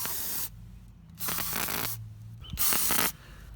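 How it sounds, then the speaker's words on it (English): Short bursts of aerosol cleaner sprayed onto a Honda Shadow VT1100 motorcycle carburetor during a rebuild, three close hissing blasts separated by brief pauses with faint handling noise between. "I want to spray this stuff so it comes downward and outward."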